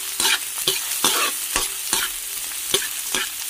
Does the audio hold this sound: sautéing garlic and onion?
yes